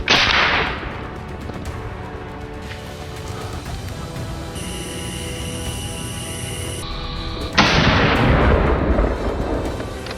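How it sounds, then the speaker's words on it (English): A rifle shot fired at a wild boar in a field: a sharp crack at the start with a trailing echo, then a steady background hum and a second loud report near the end. "The bullet flew decisively, striking the beast dead on."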